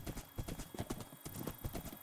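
Horse hooves clip-clop at a steady trotting rhythm in the Minecraft video game, close and clear. The horse wears armor. Faint game ambience sits underneath, with no talk over it.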